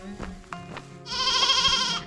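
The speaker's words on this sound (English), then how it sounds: "Sheep have obviously had a rough day, all having a lie down in the shade of the tree." Sheep resting in the shade of a tree on a Lake District fell walk give a loud, close, quavering bleat lasting about a second after some quieter background noise.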